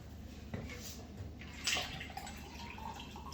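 Peach mango Redmond Re-Lyte drink mix poured into a container of water, giving a soft continuous liquid splash with a brief louder gush midway, close and moderately quiet.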